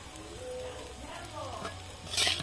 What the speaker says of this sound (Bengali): একে একে সব চাউমিনগুলোকে এরকম করে ভেজে নিচ্ছি।